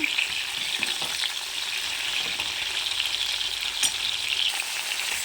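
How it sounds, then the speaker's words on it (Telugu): A green ground spice paste with cardamom fries in hot oil for a pointed gourd curry. A steady, close sizzle holds throughout, with light stirring and no talk. "ఈ గ్రీన్ కలర్ కొంచెం బ్రౌన్ అయ్యే వరకు ఫ్రై చేసుకోవాలండి"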